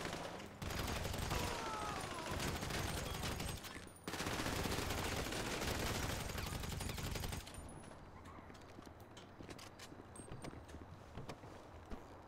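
Sustained suppressive gunfire in Grand Theft Auto V, dense rapid automatic bursts roaring loudly and continuously for several seconds, briefly cutting out, then resuming before dropping to quieter scattered shots and ambient game noise.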